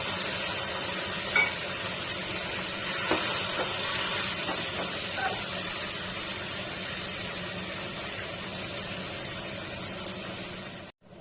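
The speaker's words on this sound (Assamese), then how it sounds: "অকণমান পানী দিম যাতে এইটো দেৱাই নাযায়" Water poured into a hot pan of parwal (pointed gourd) curry on a stovetop, setting off a loud, steady hiss and sizzle that holds for about ten seconds with faint stirring clinks underneath, then cuts off abruptly.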